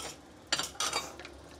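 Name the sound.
stirring curry in a pot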